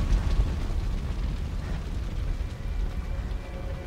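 A deep, rumbling car explosion after a gas leak in Resident Evil 2 Remake, with crackling debris, a sustained low roar rather than a sharp bang, heard alone without speech.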